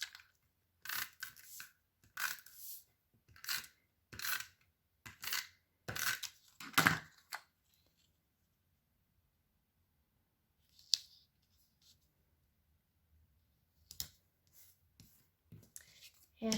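Scissors snip through designer series paper while trimming excess for a handmade stamped card, a run of crisp, evenly spaced cuts followed by a quiet pause, then a few lighter snips near the end.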